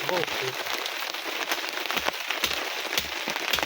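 Rain falls outdoors in the countryside, a soft steady patter of drops with a few sharper taps, fairly faint and close.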